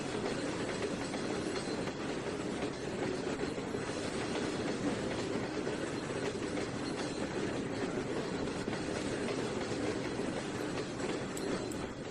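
Diesel locomotive in the Trainz 19 railroad simulator, throttled back to notch 5 while switching cars on a tidewater yard, a steady loud engine drone with rolling wheel clatter throughout, no talking.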